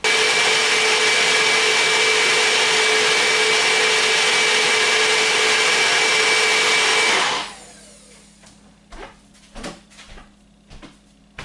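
A countertop blender purees PA Dutch butternut squash soup in a home kitchen, running as a loud steady whir for about seven seconds before cutting off, followed by scattered clicks and knocks.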